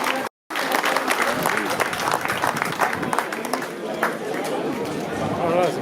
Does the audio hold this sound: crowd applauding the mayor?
yes